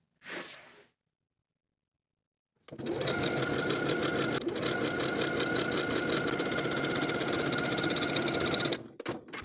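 A sewing machine runs steadily at close range, stitching along the hem of a denim jacket with a rapid, even mechanical chatter that lasts about six seconds after a brief rustle and a pause of silence.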